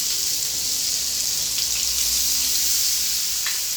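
Chopped garlic and onion fry in hot oil with mustard seeds for a lentil ball curry, giving a steady, close hiss of sizzling that continues evenly, with a few faint scrapes and no voices.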